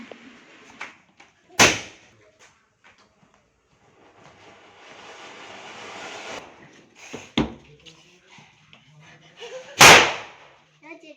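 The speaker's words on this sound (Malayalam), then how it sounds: "പിന്നെ വിഷുവിൻ്റെ മെയിൻ പരിപാടി പടക്കം പൊട്ടിക്കൽ തന്നെ." Vishu festival firecrackers going off: three sharp, loud bangs spaced several seconds apart, each cutting through a quieter hissing, rustling background, with faint sounds of people nearby.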